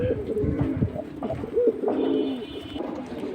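Pigeons coo repeatedly in low, rolling throaty calls, several birds overlapping close by with a steady busy murmur at a pigeon market.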